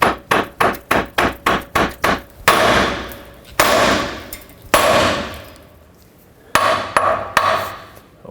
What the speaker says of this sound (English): now with a hammer right here on the knuckle or here, wherever, and that should break it free